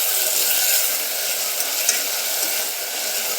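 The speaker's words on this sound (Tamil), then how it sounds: "தக்காளி சேர்த்து நல்லா வதக்கிக்கலாம் ஃப்ரெண்ட்ஸ்." Tomatoes for mushroom biryani sauté in a pan with a constant, close hiss of sizzling oil and a few faint clicks from stirring, with no voices.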